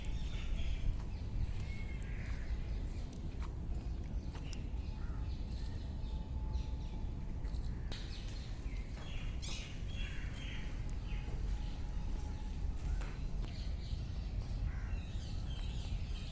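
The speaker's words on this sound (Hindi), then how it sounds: "काफ़ी शांति है यहाँ, बस पक्षियों की आवाज़ें हैं।" Birds calling at Delhi's Purana Qila (Old Fort), scattered faint chirps and tweets over a steady outdoor background rumble, heard without any talking.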